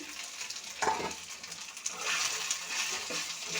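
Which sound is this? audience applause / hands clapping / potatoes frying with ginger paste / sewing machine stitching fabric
potatoes frying with ginger paste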